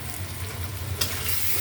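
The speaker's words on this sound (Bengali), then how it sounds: "তেলের উপরে ভাজা নিতেছি" Ground spices, garlic paste, coriander, cumin, turmeric and chili fry in oil for lentils with a close, continuous sizzle; a single scrape of stirring cuts in partway through. Nobody speaks.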